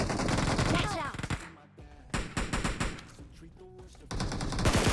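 Bursts of automatic gunfire from PUBG Mobile come in rapid strings of loud shots, stop briefly, then resume, with a voice talking over parts of the exchange.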